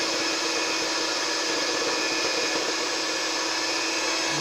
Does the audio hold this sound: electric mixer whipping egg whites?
yes